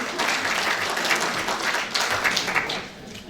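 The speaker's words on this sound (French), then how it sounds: "Vous pouvez vous applaudir." A town hall crowd claps at a mayor's New Year address in a French village, with dense, sustained applause that swells and fades in waves.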